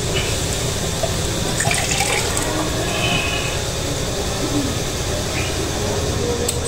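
Cold tap water runs steadily and loudly into a sink in a home kitchen, a continuous broadband rush with no pauses.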